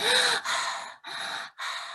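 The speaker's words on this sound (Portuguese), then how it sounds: "O oral respira como ato de sugar." Sharp sucking inhales drawn in through the mouth to demonstrate an oral-type breathing pattern, three loud close breaths in a row with short pauses between them.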